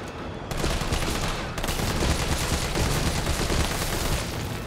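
Rapid, continuous gunfire in Resident Evil 3 forms a dense, close rattle of shots that runs almost unbroken for several seconds, with a short pause near the start.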